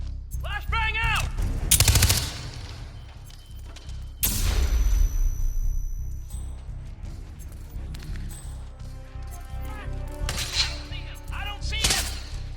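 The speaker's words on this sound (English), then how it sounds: "Flashbang out!" Flashbang detonation and bursts of gunfire in the Hitman 2 video game, loud sharp blasts and rapid shots in several clusters with ringing tails, no talk over them.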